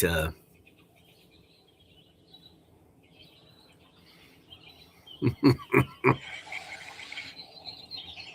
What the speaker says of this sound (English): even the crows are squelching at him